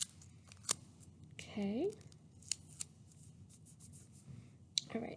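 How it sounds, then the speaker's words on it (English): Tape presses down one end of yarn for a gingerbread boy craft, with quiet crackly tape pulls, a short squeak and soft taps, and a single brief spoken word near the start. "tape one end. So one end here. I'm going to tape it down."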